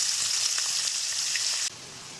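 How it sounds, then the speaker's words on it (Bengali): Shrimp frying in mustard oil seasoned with salt and turmeric in a kadai, a steady close crackling sizzle that drops slightly in level near the end. "এইবারে চিংড়ি মাছগুলো হালকা করে ভেজে নেব।"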